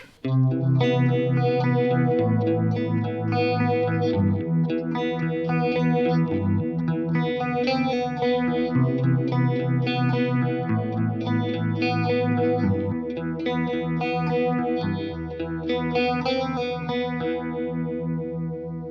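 Electric guitar chords played through an MXR Phase 90 phaser pedal with speed set to 3 o'clock, the tone swirling quickly in a rapid, warbling sweep, loud and sustained with no talking.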